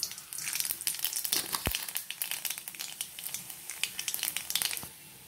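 Black cumin (kalo jeere) seeds spit and crackle in hot oil in a pan, a busy, close sizzle of dense sharp pops that runs steadily for several seconds and then fades out, with no voices over it.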